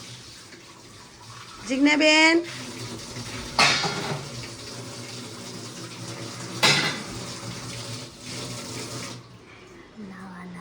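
Dishes being washed under running water in a home kitchen, with splashing bursts and clinks rising and falling over a steady background while people talk nearby.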